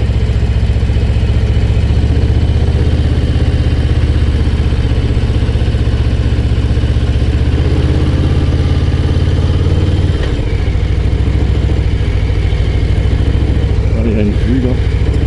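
A Harley-Davidson motorcycle climbs a mountain road with a loud, continuous low engine rumble and wind noise, someone talking over it.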